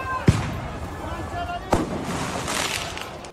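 Firecrackers set off by rioting football fans at police in Paris crack twice, sharp and fairly close, about a second and a half apart, over a constant roar of crowd noise.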